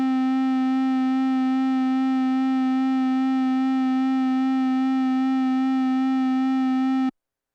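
A Korg Prologue synthesizer holds a single steady, bright tone with a gentle, regular vibrato wobble, loud and alone for about seven seconds before stopping abruptly.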